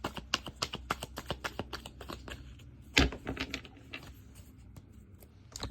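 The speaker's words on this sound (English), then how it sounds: "For those of you who like to see the actual shuffling of the cards" Tarot cards being shuffled up close, a steady run of quick crisp riffling clicks with one sharper burst in the middle, no voices.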